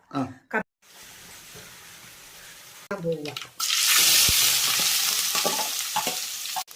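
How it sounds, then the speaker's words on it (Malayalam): Sautéed onions for kappa biryani sizzle and fry loudly in a pan while being stirred, with scraping and bubbling heard close up and a voice talking briefly near the start. "അരപ്പ് ഈ വഴന്ന സബോളയ്ക്കകത്ത് ഇടാൻ പോവുക."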